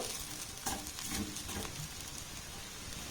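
A frying pan full of fried cauliflower paratha filling crackles with a soft, even sizzle while a spatula scrapes and pushes it to one side in a few quiet strokes, near and without speech.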